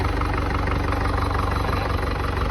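A New Holland TD95 tractor diesel engine, worn and burning oil, runs at a steady idle with a dense, close, rhythmic low chugging and knock that continues without a break.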